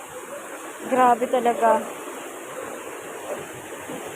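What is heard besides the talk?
strong floodwater rushing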